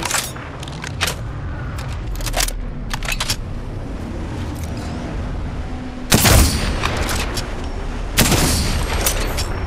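Gunfire in Apex Legends, with scattered sharp shots early on, then two heavy, loud bursts of fire a couple of seconds apart near the end, heard without talk.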